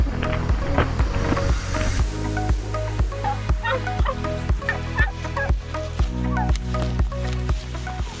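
Turkeys being transported to a processing plant: a dense, loud flock gobbling and calling continuously, with rhythmic mechanical thumping beneath the birds.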